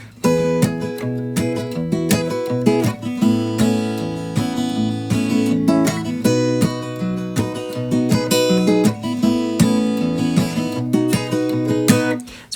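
Fingerstyle electric guitar plays a song's groove, bass line and chords together in a steady, bouncy rhythm, loud and close with no talking.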